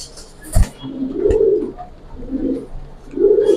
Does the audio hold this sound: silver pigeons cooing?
yes